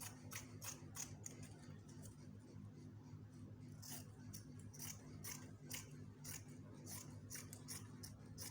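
Scissors snip steadily through the back piece of fabric for a palazzo jumpsuit, a quick run of crisp, close cuts over a faint low hum.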